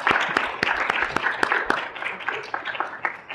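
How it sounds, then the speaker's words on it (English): An audience at a public health ethics forum gives the presenters a round of applause, with distinct sharp claps over a dense spread of clapping that slowly thins and fades. "please give our presenters a round of applause."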